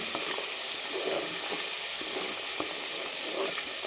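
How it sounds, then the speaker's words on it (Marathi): Ground masala paste sizzles and fries steadily in oil for a Marathwada-style goat mutton curry, with a spoon scraping and stirring it in a few soft clicks; the hiss stays dense and continuous throughout, with no one speaking. "हे जे वाटण घेतलं होतं ते टाकू आपण आणि दोन मिनिट आपल्याला त्याला पण छान परतून घ्यायचं"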